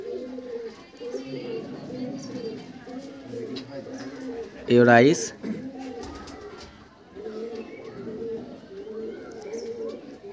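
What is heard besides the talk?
pigeons cooing in a loft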